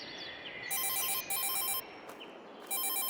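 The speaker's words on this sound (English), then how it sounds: "I've got a phone call." Phone ringing with an incoming call during a farming simulator roleplay game: a loud, near electronic ringtone in repeated bursts with short gaps between them.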